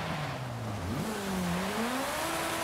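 A car drifts on an ice rink in the Forza Horizon 5 video game, its engine droning steadily and loudly, the pitch rising and dipping as the revs shift through the slide.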